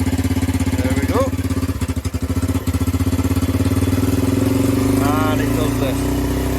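A Lexmoto Street motorcycle engine idles close by with a steady loud putter, briefly faltering and revving mid-way as its fuel is adjusted, while a person talks over it.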